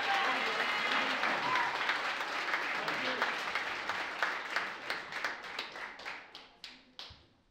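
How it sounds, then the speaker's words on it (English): Audience applause at a 100th podcast celebration, a full dense burst of clapping that gradually thins out into scattered individual claps before fading, with a few voices underneath. "Another round of applause."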